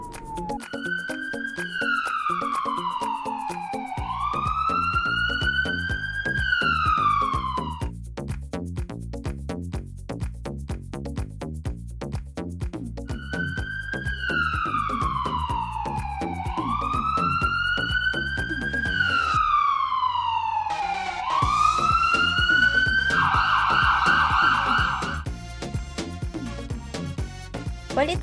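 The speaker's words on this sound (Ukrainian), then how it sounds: "Це швидка допомога." Wailing ambulance siren from a children's cartoon, rising and falling in long sweeping cycles over a bouncy musical backing, loud and continuous with a brief break before the siren returns.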